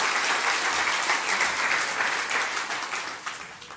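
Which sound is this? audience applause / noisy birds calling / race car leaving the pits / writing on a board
audience applause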